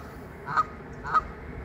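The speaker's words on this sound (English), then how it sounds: "And I saw these two geese, knuckleheads, down here waiting for Rocky to make a mess." Two geese give two short honking calls about half a second apart, fairly faint over a steady low background hum, outdoors near a bird feeder.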